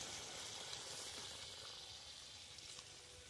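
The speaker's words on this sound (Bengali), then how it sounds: "আমি পরিমাণ মতো জল দিয়ে দিচ্ছি।" Water poured into a hot pan of tomatoes that have cooked down and melted, raising a steady, loud sizzle that holds evenly throughout with no voices.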